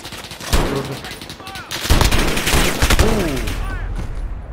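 Call of Duty Modern Warfare 2019 gunfire in a 2v2 match: loud, sharp bursts of automatic shots and single cracks spread over several seconds, with brief voices in between.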